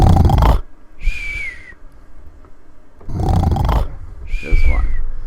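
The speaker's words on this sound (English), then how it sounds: "Let's have a snore sound" A comedic snoring sound effect plays in short cycles: two rough, noisy inhales, each ending in a rising whistle, separated by quiet pauses, loud and close.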